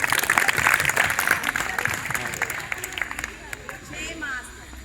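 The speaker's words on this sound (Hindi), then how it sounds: "तालियां बजा दो इनके लिए।" An audience claps for students at a constitution quiz held at a girls' senior secondary school in Jahazgarh. The applause is a dense burst at first, then thins and fades over a few seconds.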